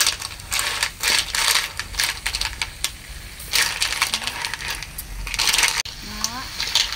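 Mountain snails from Tây Ninh, from Bà Đen mountain, being stirred and tossed in a pan as they cook: a steady stream of hard shell clatter and rattling scrapes with a faint sizzle underneath, moderately loud and close.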